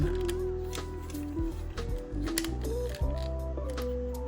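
Plastic parts of a Transformers Masterpiece MP-12 Lambor (Sideswipe) knockoff toy click and ratchet as the arms and doors are pushed into place, giving close, loud mechanical clicks and creaks over a steady background hum.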